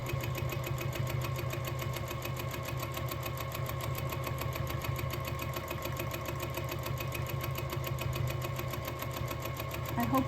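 Sewing machine running fast and steadily for free-motion quilting, a continuous quiet mechanical hum with rapid even needle strokes throughout, faint and unbroken.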